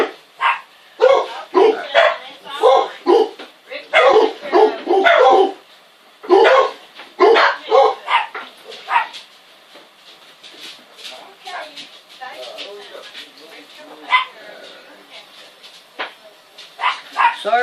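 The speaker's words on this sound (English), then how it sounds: "Sorry about all the dogs" Several dogs bark and yip repeatedly in loud, uneven bursts, some close and some farther off, with occasional whimpers between, over a quiet indoor room where handle work on a sewn Bible carrier is underway.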